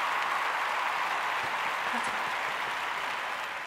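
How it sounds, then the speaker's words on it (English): Sustained applause-like clapping fills the whole stretch at an even density, steady and moderately loud with no voice over it. "Big claps for me."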